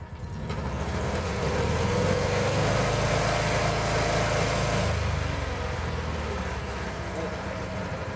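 A small scarifier engine chugs steadily at a low, throbbing idle, its pitch lifting slightly in a gentle rev before easing back.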